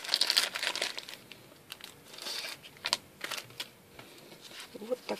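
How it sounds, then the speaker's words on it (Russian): Plastic packaging bag crinkling and tearing open as a small item is unwrapped, close-up with repeated crisp rustles and crackles, fairly quiet throughout. "Сейчас я ее тоже вскрою из пакетика"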